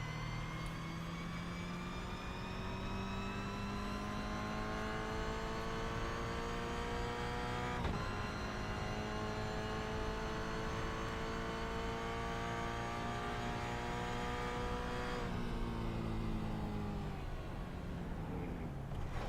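A Toyota GR86 race car drives on the Oschersleben circuit, its engine droning loudly and continuously as the pitch climbs through the gears, with a brief dip mid-run and a falling tone near the end; no talking.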